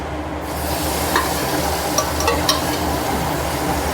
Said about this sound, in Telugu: ఇప్పుడు ఇందులో మనము ఉడికించుకున్న బేజా వేసుకుందాం.